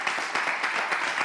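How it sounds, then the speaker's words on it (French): A crowd at a French live show applauds, with dense continuous clapping at an even level for the whole moment and no voices over it. "est-ce qu'on peut applaudir, s'il vous plaît?"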